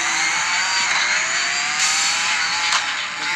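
Steady high-pitched engine whine from a car drifting on a track in the video game CarX Drift Racing, revving continuously and loudly with slight pitch swells and no talk.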